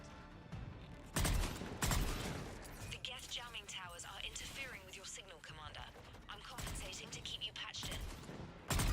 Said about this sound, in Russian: То есть она с верхнего и с нижнего ствола стреляет.